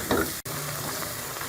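Moong dal halwa roasts in ghee in a pan, giving a continuous close sizzle with scraping stir noises and a brief clunk of the spoon partway through.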